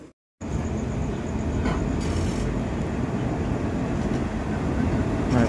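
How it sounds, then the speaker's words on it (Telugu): The Secunderabad superfast express, train 12746, pulls out of platform 2 at Dornakal Junction after a brief silence, its steady rolling rumble and clatter continuous and close, with no one speaking. "మన ట్రైన్ అయితే ఇప్పుడు డోర్నకల్ జంక్షన్లోని ప్లాట్ఫామ్ నెంబర్ 2 నుంచి అయితే డిపార్ట్ అయిపోయింది"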